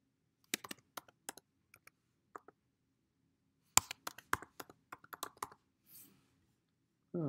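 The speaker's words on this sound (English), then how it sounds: "I'm having trouble typing letters." Quiet keystrokes on a computer keyboard while entering data into a spreadsheet, scattered single clicks and short quick bursts with pauses between them in an otherwise silent room.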